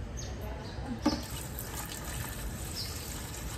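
Tap water poured gently from a pot into a home fish tank, a soft continuous splash and trickle, close and steady throughout, with one brief knock near the start.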